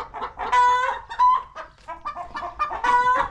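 A hen trapped inside a pigeon enclosure clucks loudly and repeatedly up close, in agitated bursts of squawks and drawn-out cackles with no talk over it.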